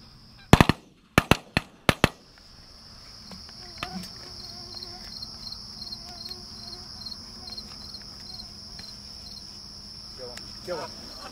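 Geese honking as they fly near a field in Michigan during a goose hunt, a few faint scattered calls over a steady high drone of crickets, after a cluster of sharp loud bursts at the start.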